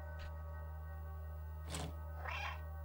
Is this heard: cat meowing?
yes